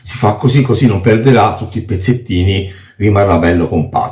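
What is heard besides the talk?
No everyday noises stand out.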